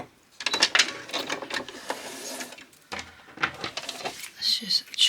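A sewing machine stitches a ruffle into fabric in short, uneven bursts of mechanical whirring, with brief pauses between runs, fairly close and moderately loud.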